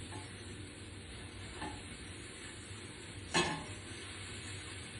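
An egg sizzles softly in a non-stick, oven-safe skillet, a steady close frying hiss with two faint taps against the pan, the second a little sharper.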